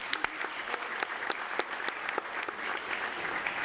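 An audience at a community gathering gives a steady round of applause, with several nearby sharp individual claps standing out over the dense clapping.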